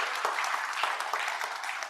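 Applause from the audience at a school district board meeting, a steady two-second patter of many hands clapping in a hall, moderately loud with no voices over it.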